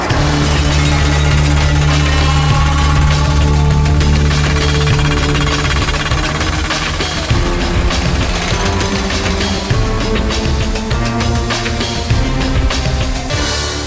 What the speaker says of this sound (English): we're drilling rebar and pipes and anything else they buried in there